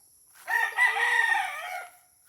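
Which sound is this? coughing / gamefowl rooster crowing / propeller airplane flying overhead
gamefowl rooster crowing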